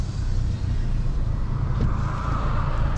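Steady, loud engine drone and road rumble of a 260 hp Mazda 3 MPS with a 2.3-litre engine being driven, heard from inside the car, continuous throughout with no talk.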